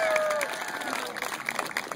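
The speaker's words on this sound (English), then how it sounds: "Give Blake a big round of applause." A crowd at a comedy magic show applauds a volunteer with rapid clapping and some cheering, as a tonal sound fades out at the start.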